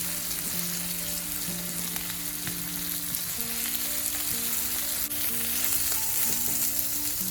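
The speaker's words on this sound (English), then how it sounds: "So we have to keep on sauteing it till it gets a little bit of color, golden color" Thai eggplant sautéing in a pan, a steady close sizzle and frying crackle with occasional stirring scrapes, continuous and fairly loud with no talking.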